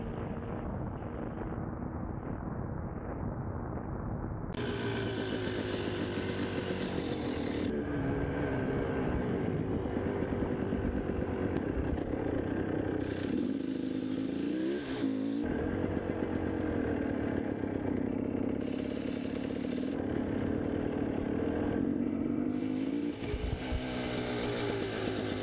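A motocross motorcycle engine drones steadily while riding, heard close and loud throughout with small shifts in pitch and no talking.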